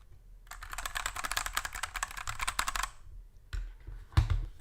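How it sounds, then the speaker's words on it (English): Rapid typing on a mechanical keyboard, a dense run of sharp close clicks for a few seconds, then a pause and a couple of isolated heavier key strikes. "if you have a mechanical keyboard, you can understand the difference between that"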